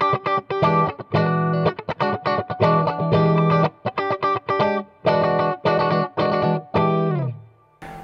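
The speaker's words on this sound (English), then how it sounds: "Some really killer tones, your middle pickup type stuff." Electric guitar from FGN played through distortion and chorus effects on the middle pickup, loud repeated chords in short bursts separated by brief pauses, ending on a sustained ringing chord that fades.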